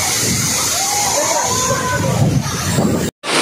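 Water pours and splashes steadily at Sirimane Falls near Sringeri in Chikmagalur, with people bathing in it, a close, continuous rush mixed with crowd babble, and someone talking over it before a brief cut near the end.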